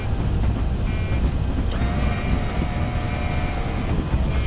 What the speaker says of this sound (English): All right, let's get the gear down.